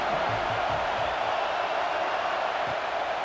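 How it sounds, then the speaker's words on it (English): A college football stadium crowd on Saban Field roaring on third down against Ohio State, a dense, steady wash of crowd noise at constant loudness throughout. "The Tide crowd rolling noise down onto Saban Field on third down."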